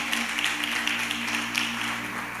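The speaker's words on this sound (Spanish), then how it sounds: "denle un aplauso al Señor" Church congregation applauding during a Spanish-language evangelical worship service, a steady soft patter of many hands heard at a distance over a sustained low musical hum.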